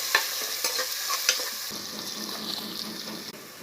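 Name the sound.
chopped onions frying in pan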